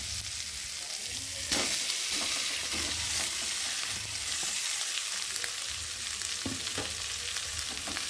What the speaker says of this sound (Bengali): এখন আমি এর মধ্যে যে আলুগুলো চটকে রেখেছি সেই আলুগুলো এখন এর মধ্যে ঢেলে দেবো।